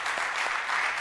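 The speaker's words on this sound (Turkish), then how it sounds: "Bu yüzden Zeynep'e ben yürekten bir alkış istiyorum." Studio audience on a Turkish daytime TV talk show applauds, a short burst of steady clapping with no voices over it.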